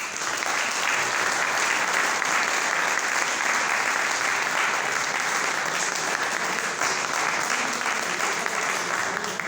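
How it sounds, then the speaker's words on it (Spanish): An audience at a Rotary club meeting gives a speaker sustained, even applause, dense and steady from start to finish with no voices over it. "un aplauso para nuestro disertante"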